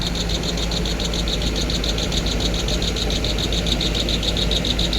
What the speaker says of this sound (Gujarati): ટ્રેક્ટર આવી ગયું